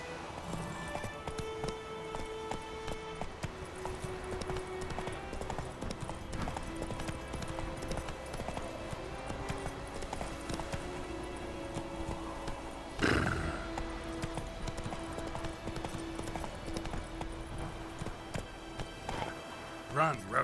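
Roach, the horse in Witcher 3, trots and gallops with continuous hoof clatter under steady game ambience, giving a sharp neigh partway through while a voice talks over the riding.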